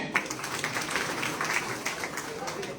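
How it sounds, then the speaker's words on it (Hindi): Applause from a crowd at a BJP political gathering in Banswara, Rajasthan, heard as dense, steady clapping running through the whole moment with some voices mixed in. "जोरदार ताली बजाए।"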